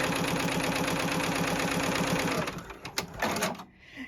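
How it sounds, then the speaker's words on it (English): A JUKI sewing machine stitching fabric in an embroidery hoop, with a fast, steady mechanical chatter close by for over two seconds, then slowing to a few clicks and stopping. "And now I will be stitching my yellow line, which will sew down my fabric."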